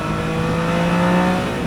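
A 2024 Triumph Daytona 660 motorcycle engine holds a steady, loud, close-up drone at high revs, a continuous buzzing tone out on the road with no voices.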